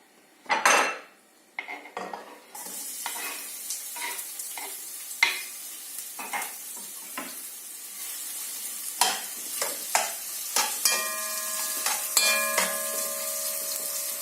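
Onions sizzle in oil in a pan, with sharp metallic clinks and scrapes of a utensil against cookware. After a loud opening knock, a steady frying hiss builds and gets louder as the clip goes on. No voices.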